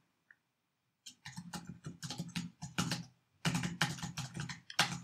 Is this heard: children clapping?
no